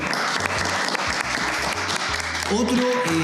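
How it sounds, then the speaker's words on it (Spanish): An audience applauds for a school at a cultural programme event, a brief dense burst of clapping with a low hum beneath and a sustained tone emerging as it fades. "Le damos un aplauso a la Escuela David del Curto, ¿les parece?"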